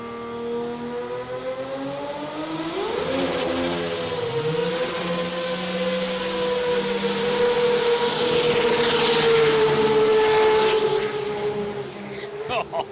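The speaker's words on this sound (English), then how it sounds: "That was a genuine 300-foot burnout from Matul" A sports compact drag car at an Australian drag racing event does a long 300-foot burnout, its engine revving up and holding a loud, rising, sustained roar for several seconds before fading, with crowd and track noise around it.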